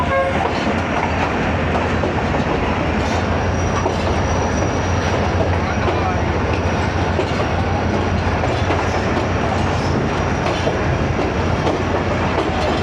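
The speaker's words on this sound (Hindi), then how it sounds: "पैरेलल अराइवल हुआ है दोनों ट्रेन का" Two trains roll into a station side by side on the Mirpur Khas to Lahore route, a loud continuous rumble and clatter of wheels on rails up close, with faint squealing and no clear talk.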